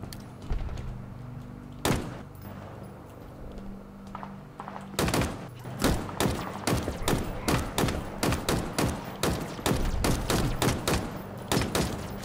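Gunfire in the video game Halo Infinite, with two isolated shots followed by long runs of rapid repeated bursts at close range, loud and steady, with no talk.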